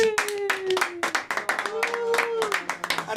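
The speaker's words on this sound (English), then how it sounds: "Give a round of applause." A studio panel audience claps at the close of a wrestling talk show, with sharp irregular hand claps from a small group mixed with a sustained voice or tone running under them.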